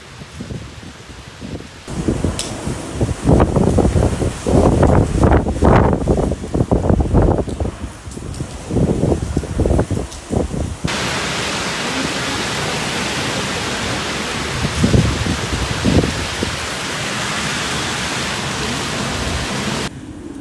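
Typhoon Bavi drives wind and rain across Okinawa, Japan, in a loud, continuous roar. Indistinct voice-like bursts rise through the first half before the storm noise settles into a constant, dense rush.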